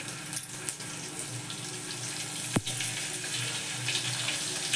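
Potatoes are rinsed under a running tap in a kitchen sink: steady splashing water throughout, with faint handling clatter and one brief knock partway through.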